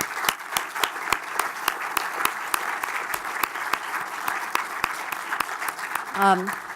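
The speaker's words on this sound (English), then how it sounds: "so that we can all give you a final round of applause" Sustained audience applause at the Science meets Parliament 2017 parliamentary forum, a steady wash of many hands clapping with sharp louder claps standing out, ending with a brief voice at the close.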